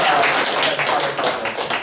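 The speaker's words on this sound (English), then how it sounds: "let's give another round of applause for you and Peter" An audience at a business idea evaluation workshop claps continuously, dense close applause filling the whole stretch at steady loudness.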